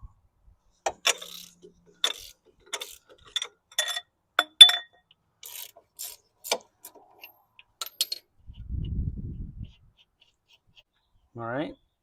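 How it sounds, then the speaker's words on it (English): A ratchet with a cheater bar loosens strut bolts on a 2008 Pontiac G6: a series of short, crisp metallic clicks and clinks spaced across several seconds, close by, with brief murmured talk in between. "We're going to go ahead and loosen these up."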